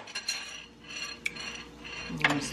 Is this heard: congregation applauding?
no